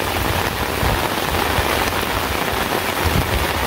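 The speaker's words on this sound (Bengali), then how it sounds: "এই যে দেখেন মানে খুব জোরে বৃষ্টি" Heavy rain pours steadily onto an umbrella in a dense, constant patter that stays loud and even throughout, with no voices.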